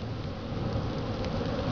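Alfalfa leafcutter bees swarm around their nest house inside a bee shelter, making a dense, continuous close buzzing hum that fills the short moment with no talk.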